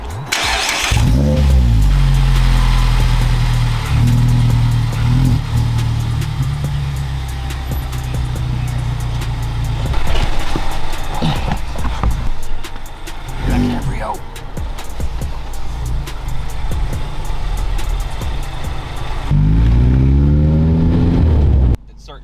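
Mazda Miata engine fitted with headers and an HKS exhaust, idling and revving loudly and steadily throughout, with rising pitch sweeps near the start and end.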